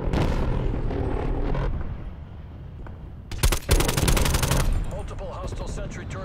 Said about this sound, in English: Multiple hostile sentry turrets working.